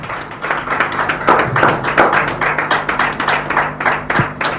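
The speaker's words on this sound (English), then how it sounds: "A warm round of applause." An audience at a Commonwealth Day and executive swearing-in ceremony claps together in a steady, moderately loud round of applause, with individual hand claps distinct and close, and no talking over it.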